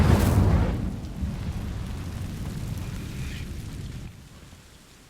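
Incendio fire spell from Hogwarts Legacy bursting into flame on dry vines: a loud, sudden whooshing ignition that settles into a steady, crackling roar and then drops away near the end.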